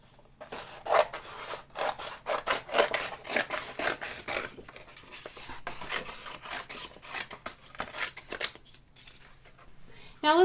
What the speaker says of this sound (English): We can take our design and cut away the excess so that we can save it for another project.